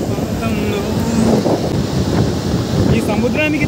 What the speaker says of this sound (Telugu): ఈ సముద్రానికి దగ్గరలో ఉంటేనేమో గాలి బీభత్సంగా వస్తుంది